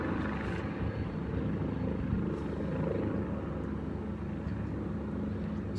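A helicopter drones steadily with a low, continuous rotor thrum, fairly distant and unchanging, with no talking.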